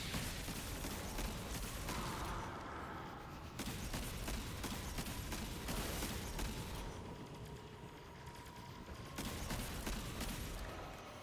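Rapid weapon fire in the video game Destiny 2, with dense bursts of shots repeating in blocks of several seconds, broken by short pauses and mechanical clicks, loud and continuous.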